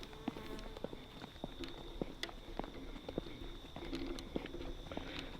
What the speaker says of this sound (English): There's so many bugs here.